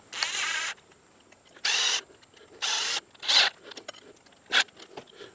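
A power tool tightens a radiator clamp in several short bursts of whirring, each roughly a second long, separated by pauses and faint handling noises, with a final quick burst near the end.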